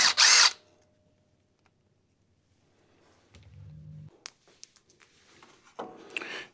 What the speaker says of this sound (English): We'll just take those 2 bolts out.